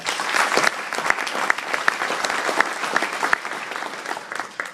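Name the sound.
audience applause for event committee and supporters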